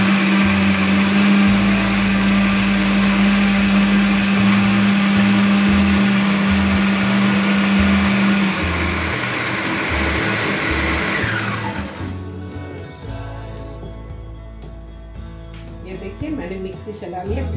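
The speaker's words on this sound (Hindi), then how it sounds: "मैंने मिक्सी चला लिया क्रीम डालकर।" Mixer grinder blending cold coffee with cream and ice, a loud steady whir with a strong low hum that runs for about eight seconds, then cuts off and gives way to quieter clinks and handling sounds.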